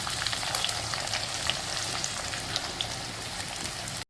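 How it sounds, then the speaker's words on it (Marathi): Onions fry in hot oil for chicken biryani with a steady, dense sizzle and scattered tiny pops, close and constant throughout. "ऑलरेडी तेल गरम झालेलं आहे त्याच्यामध्ये कांदा परतून घेऊया आपण"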